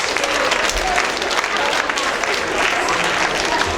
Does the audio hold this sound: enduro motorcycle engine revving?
no